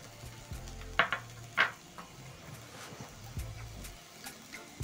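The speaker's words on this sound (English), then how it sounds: "Add in 2 tablespoons of cooking oil. Add in 1 large onion." Sliced onion dropped into hot cooking oil in a pan, sizzling softly with a couple of sharp crackling bursts early on, then a quieter steady fry with light stirring clatter and no talking.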